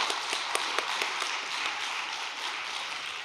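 A large congregation at a Korean religious gathering applauds in a dense, steady wash of clapping, with a few sharper claps standing out, sustained throughout.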